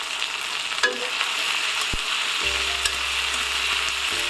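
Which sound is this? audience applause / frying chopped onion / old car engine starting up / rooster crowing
frying chopped onion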